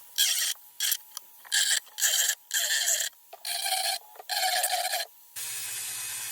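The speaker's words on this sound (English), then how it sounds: "I still have my Dremel wheel on here and I wanted to clean up inside there" A Dremel rotary tool wheel cleans up the inside of an assembly part in repeated short bursts of high grinding whine, each lasting under a second, followed by a steadier motor hum with no grinding.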